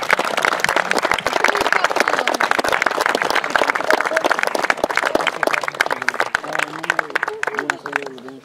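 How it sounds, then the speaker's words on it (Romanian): Crowd applauding at a mini-football tournament ceremony as the previous winning team returns the cup, loud sustained clapping from many hands that tapers near the end as a voice begins to speak. "Și îi aplaudăm."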